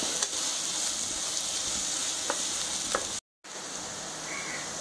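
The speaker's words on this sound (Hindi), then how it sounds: "अब मैं उसमें बारीक कटा हुआ प्याज और हरी मिर्ची डाल रही हूँ। इसे मैं थोड़ा देर चलाऊंगी।" Finely chopped onion and green chili fry in a pan with a constant bright hiss and sizzle, a few light spoon taps, and a sudden short gap of silence before the frying resumes.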